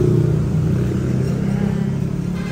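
Steady roar of highway traffic beside a roadside eatery in Tagum, a continuous low engine rumble from passing cars and vehicles, loud and unbroken with no talking.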